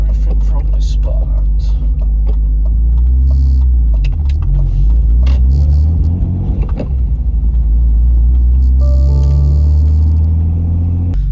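BMW E46 car on a test drive, loud low engine rumble and road drone from inside the cabin, rising and falling with speed, with some faint clicks and a voice in the background.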